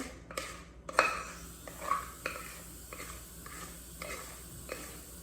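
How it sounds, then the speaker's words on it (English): Spatula scraping chocolate cake batter from a bowl into a cake pan for a German chocolate cake: soft scrapes and light clinks of utensil on dishware, intermittent and close, no talking. "Try to get as much of the batter from the bowl into the pan as possible."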